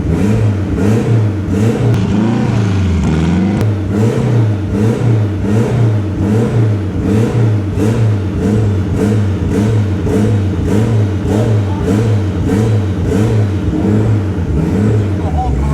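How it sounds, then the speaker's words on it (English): A Honda Civic engine revs under throttle with a steady, loud, pulsing drone that throbs in a regular rhythm, heard up close from inside the car and continuous throughout. "So when I give it throttle, I feel like I got engine movement."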